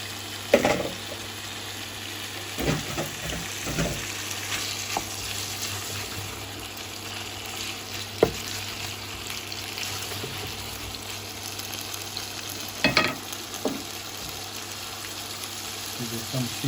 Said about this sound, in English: Get the fish cooking.